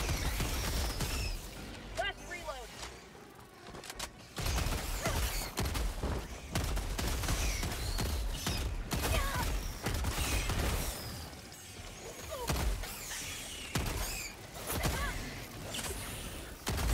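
Rapid weapon fire from the Flame Breaker shotgun in Helldivers 2 during a chaotic bug fight, with dense, continuous bursts and clattering mechanical noise filling the scene while voices talk over it.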